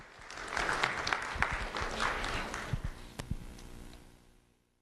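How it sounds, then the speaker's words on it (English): Audience applause for a fourth-grade student being honored at a school recognition event, a burst of scattered clapping that swells, holds, then thins out and fades to silence, moderately loud and alone. "Let's have a round of applause for Gabriella Giraldo."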